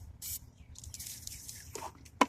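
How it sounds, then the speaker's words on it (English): Brief hiss of lubricant spray from an aerosol can while parts of an engine air intake are lubricated, a short burst near the start and another quick spurt near the end over low background noise. "Just putting some lube on things."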